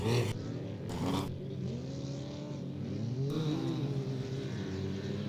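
Race truck engine on an off-road track, a steady mid-distance drone with shifting pitch as it runs around the course, under broad outdoor noise.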